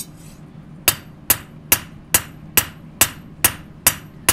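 Steel is hand-hammered while forging a Japanese knife at the finishing stage: nine sharp, evenly spaced metallic strikes ring out in a steady rhythm after a brief quiet start.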